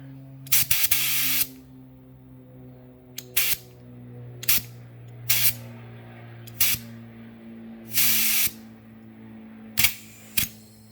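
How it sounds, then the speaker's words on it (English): Porter Cable air compressor filling a Ducati Diavel 1260S motorcycle tire, heard as a steady low hum with eight short, sharp bursts of hissing air, some brief and some lasting about a second, spaced unevenly and close by. "I just picked up this Porter Cable air compressor"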